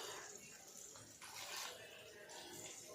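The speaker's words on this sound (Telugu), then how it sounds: "కొంచెమే నీళ్ళు పోయాలి, ఒకేసారి పోస్తే మళ్ళీ ఎక్కువైపోతుంది." Water trickles and splashes softly into a bowl of bajji batter being mixed for pakodi with ivy gourd, quiet and close, with a brief stronger pour midway and a faint voice in the background.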